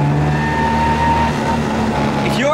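A Mini Cooper 1275 S engine idling close by, a steady throbbing rumble with dense mechanical vibration and a faint rising whine near the end.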